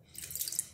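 Tap water runs steadily into a sink while a muddy, crusted puppy is washed, a short close hiss with a faint drip.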